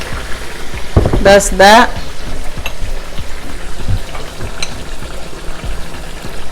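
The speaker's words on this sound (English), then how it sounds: "Now I'm just going to add this blended onions, bell peppers, garlic." Blended onions, bell peppers and garlic poured into a hot pot for jollof rice, giving a sudden loud burst of frying that fades into a steady sizzle, with a brief spoken remark nearby.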